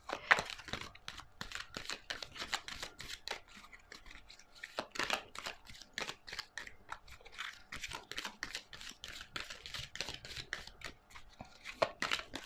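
Tarot cards shuffled by hand in a steady run of crisp riffles and slaps, close and fairly quiet, with short pauses between bursts and no one speaking.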